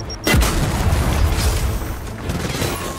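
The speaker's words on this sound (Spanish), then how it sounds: "¡Sale granada de fragmentación!" A fragmentation grenade in Gears of War 4 detonates with a loud, deep boom, followed by a sustained rumbling roar of debris and noise that stays dense for several seconds.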